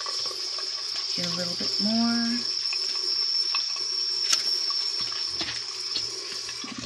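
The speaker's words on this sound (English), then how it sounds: "Turn the water on." A tap runs water into a sink while bentonite clay mask powder is being mixed, a steady hiss throughout, with a brief spoken phrase near the start.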